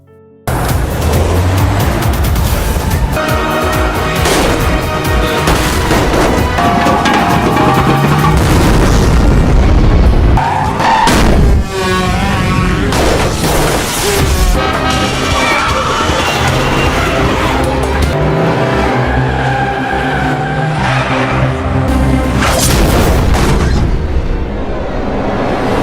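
Car chase scene from the Indian film Chennai Express, with a continuous loud, dense wash of booming impacts, engine roar and dramatic score, punctuated by heavy crash-like hits throughout.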